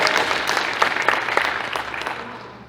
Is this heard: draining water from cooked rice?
no